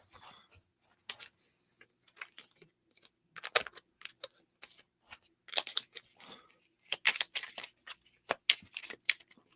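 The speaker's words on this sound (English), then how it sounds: "I just like shuffled them" Tarot cards being shuffled by hand, heard as quiet, irregular bursts of crisp flicking and riffling clicks that grow denser toward the end, with no talking.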